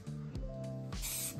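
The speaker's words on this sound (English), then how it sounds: "I'm gonna give them a quick spray because I wire wheeled them because they were grubby" Short hissing bursts from an aerosol spray can on wire-wheeled welds on a cleaned-out differential from an S14, a couple of quick close puffs with the longest near the end.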